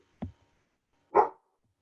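A dog gives two separate barks indoors, the second louder and fuller, with quiet between them.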